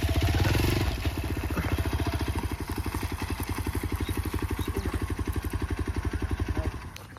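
A Hero XPulse 200 4V Pro motorcycle thumps steadily off-road, its single-cylinder engine pulsing in a fast, even rhythm up close, with a louder rev at the start and no talk.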